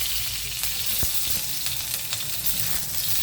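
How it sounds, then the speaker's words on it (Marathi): Chopped green chillies sizzle loudly in hot oil for a spicy green chilli pickle, a dense continuous crackle close up with sharp pops scattered throughout and no voices. "मी हे एकदम चिरून मस्तपैकी घेतलेल्या मिरच्या आता तेलामध्ये टाकत आहे"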